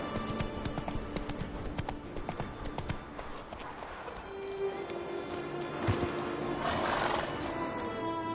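Roach, a horse in The Witcher 3 set on Skellige, gallops with steady rhythmic hoof clip-clops close by, a brief whinny rising near the end over ambient game wind.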